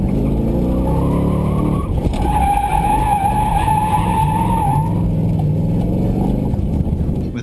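A V8-swapped BMW M3 drifting slowly through corners at an autocross event, its tires squealing loudly in a long sustained screech over steady engine roar, with the squeal strengthening after a brief shift and then easing.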